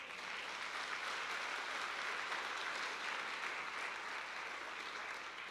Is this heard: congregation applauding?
yes